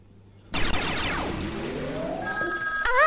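A telephone on a TV quiz call-in show starts ringing loudly and abruptly, an electronic ringtone with sweeping tones that shifts into a steady warbling ring near the end.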